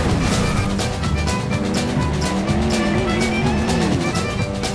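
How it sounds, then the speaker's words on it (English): A bulldozer in the driving video game Clutch rumbles loudly and continuously, its heavy engine roar mixed with scraping, grinding and crashing noises throughout. "It's a bulldozer."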